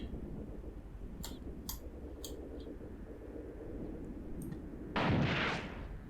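Anti-tank gun fire from a ZIS field gun in the tank battle game Graviteam Tactics, heard as a few sharp distant cracks followed by one louder, broad blast near the end over a steady low battlefield rumble.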